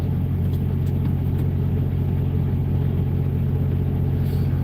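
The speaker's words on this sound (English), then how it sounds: "Oh, here comes another truck." A truck approaches with a steady, deep engine rumble, loud and continuous throughout with no voices over it.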